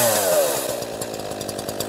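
An ECHO CS-4910 chainsaw engine drops from fast idle to normal idle, its higher revving note falling quickly into a close, steady, rhythmic putter.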